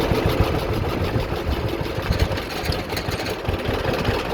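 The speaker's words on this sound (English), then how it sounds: "Let's do a low idle once as long as we're here. See how this carb is really living." A John Deere B tractor engine idles low with a steady, loping chug, continuous and close, with no talk over it.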